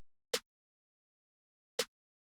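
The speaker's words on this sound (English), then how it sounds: "this is the sound of the snare." Two isolated hits of a snare drum sample, each short and sharp with a quick decay, spaced about a second and a half apart, with silence between them.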